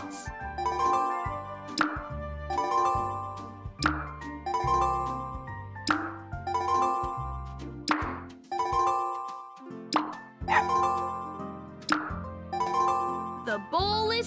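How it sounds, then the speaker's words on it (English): Pup treats dropping into a dog bowl in the PAW Patrol: A Day in Adventure Bay game, a steady series of bright cartoon plops and chimes every second or so over a looping tune. "Use your finger to drag the dog bowl from left to right to catch the falling pup treats"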